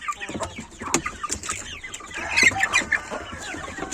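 Hens cluck repeatedly in a busy, close flurry, with short sharp calls overlapping one another and no talking.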